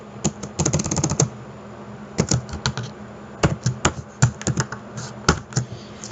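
Fingers type a code comment on a computer keyboard in quick, irregular bursts of close, crisp key clicks, separated by short pauses.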